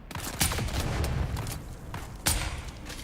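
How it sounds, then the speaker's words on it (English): A grenade goes off in a survival video game, a sharp broadband burst near the start and another blast later, both over steady rumbling game noise with no talking. "That's a grenade."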